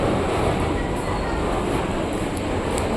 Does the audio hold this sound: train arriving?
yes